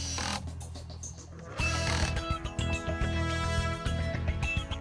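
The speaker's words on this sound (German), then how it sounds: "Dazu die Rutschkupplung der Bohrmaschine einstellen." A power drill drives screws to fasten clamps on Megawood decking boards, with steady whirring motor bursts that stop briefly and then resume loud and close. No one speaks.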